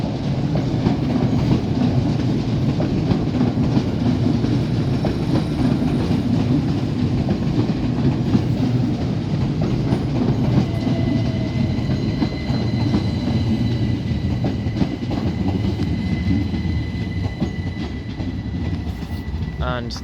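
Class 387 Gatwick Express electric trains in red livery arriving at Lewes station, a steady loud rumble and clatter of wheels on rail throughout with faint squeals, and voices in the background.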